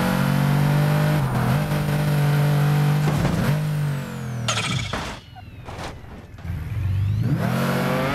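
A Pagani Huayra exotic car drives through a water-filled pothole: a loud, steady engine drone with rising and falling revs, a splashy burst and engine cut as it hits the water, then the engine revving back up.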